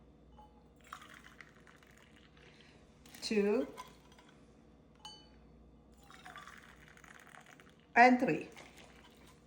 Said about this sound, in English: Then I'm going to add 3 cups of hot water, boiled water.